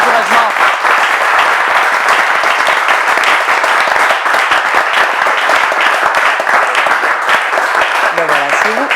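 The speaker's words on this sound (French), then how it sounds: "je vous propose de recevoir le premier invité avec des applaudissements." Studio audience applause on a French talk-show set welcoming the first guest, a dense, steady roar of clapping that fills the whole stretch with a voice briefly rising near the end.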